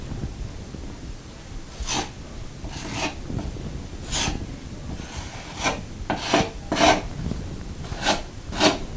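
A drywall knife smooths joint compound over a patched anchor hole in drywall, giving repeated short scraping strokes at an uneven rhythm, close and fairly quiet, with no talk.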